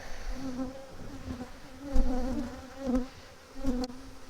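Steady buzzing of many honey bees close by during a hive inspection, a droning hum that swells louder in a few spots.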